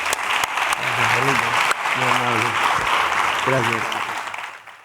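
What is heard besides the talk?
live audience applause at the end of the podcast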